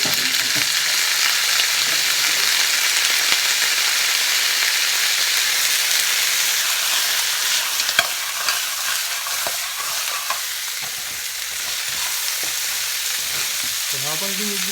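Crab (alimasag) sautéing in a hot pan, with a loud, steady frying sizzle that runs unbroken throughout, a few scraping stirs, and spatula clicks near the end.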